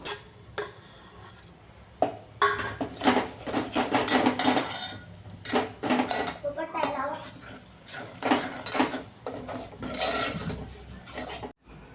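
Chicken gravy with spices being stirred and sautéed in a metal pan, with repeated loud scraping and clinking of a spoon against the pan that comes in bursts over about twelve seconds, and faint sizzling underneath.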